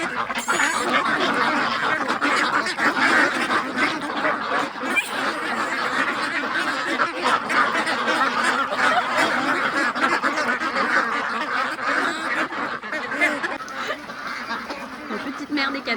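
A crowd of ducks quacks and honks continuously and loudly at close range in Phong Nha, their overlapping calls forming a dense, chattering clamour that never lets up.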